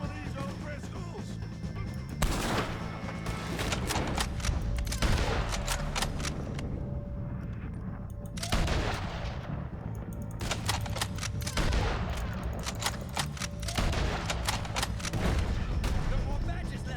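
Gunfire in Red Dead Redemption 2 against O'Driscoll gang members: repeated sharp shots crack at irregular intervals, some near and loud, over a constant background din, with voices talking in places.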